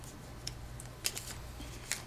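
Game cards shuffled at a tabletop board game session, faint soft riffling with a few sharp snaps and clicks scattered over a quiet background.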